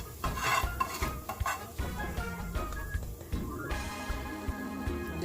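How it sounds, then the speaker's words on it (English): Curry powder burning in hot oil in a pot for Jamaican curry chicken, stirred with a spoon, giving a steady close sizzle under scraping and clinking of the spoon against the pan. "This is the amount of curry I'm burning, okay? Just using my spoon. Just put it in the oil."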